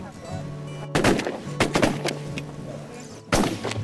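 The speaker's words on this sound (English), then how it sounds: "Everybody shot at the single that was in the middle." Shotguns fire at geese during a waterfowl hunt: several sharp, loud blasts in quick succession followed by a later single shot, with a steady low hum and faint background voices underneath.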